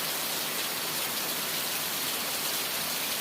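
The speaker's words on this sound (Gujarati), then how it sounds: "જો આમ ગામ માથે તો વધુ વરસાદ છે" Steady, even hiss of rain falling on a surface, constant and unbroken with no voices.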